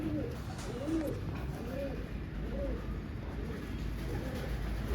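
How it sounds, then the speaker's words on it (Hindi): Repeated soft, throaty cooing of a pigeon, several rolling calls in a steady rhythm over a constant low background hum. "बहुत शानदार कबूतर है।"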